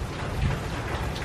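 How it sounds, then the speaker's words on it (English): Steady rain falling outside during a sudden summer downpour, a dense, even hiss with low rumbling underneath, constant throughout with no speech. "This rain, it just came from out of anywhere."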